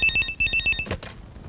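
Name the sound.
telephone ringing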